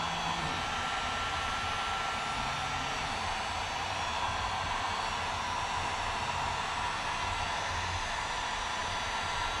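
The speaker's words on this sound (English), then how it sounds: "you need to do it with a heat gun" A heat gun blows a steady, loud broadband whoosh while warming vinyl graphics on the fuel tank of a Yamaha YZ426F motorcycle, running continuously with no pauses or voices.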